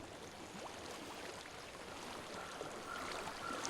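Steady broadband rush of a flowing stream in Hellblade: Senua's Sacrifice, continuous and fairly even, growing slightly louder toward the end, with no talk over it.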